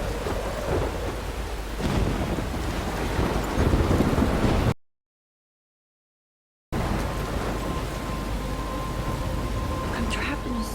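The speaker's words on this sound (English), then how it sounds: "I'm trapped in a storm?" Thunderstorm in Life is Strange Remastered: heavy rain and rolling thunder roar steadily and loudly, broken by a stretch of total silence before the storm resumes with steady rain and wind.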